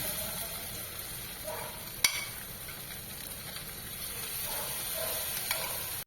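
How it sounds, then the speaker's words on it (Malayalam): Chicken sizzles steadily in hot sunflower oil, a constant crackling fry close by, with an occasional sharp clink of a utensil. "എണ്ണ ഒഴിച്ച് ഇതെല്ലാം വറുത്ത് കോരുക"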